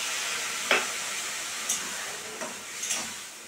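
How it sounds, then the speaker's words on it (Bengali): Hot water poured into a pan of fried food for a curry sets off a steady sizzling hiss with a few sharp crackling pops, close and fairly quiet, with no talk. "একটু গরম জল দিয়ে দিচ্ছি।"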